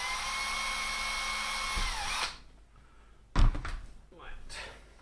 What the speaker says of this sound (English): So just drill a couple of the holes a bit bigger.